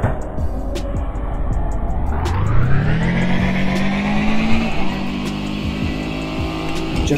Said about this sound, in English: That is how you double clutch on PC edition of GTA 5 Online.